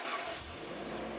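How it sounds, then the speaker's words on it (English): A car approaches from behind on a dirt safari track in the bush, a steady mid-pitched engine drone that holds fairly close and even throughout, with no voices over it. "I can hear a car coming up behind me"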